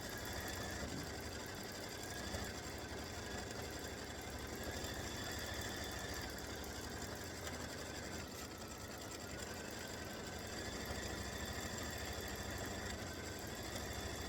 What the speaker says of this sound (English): I'm just going to let it continue stitching until it's done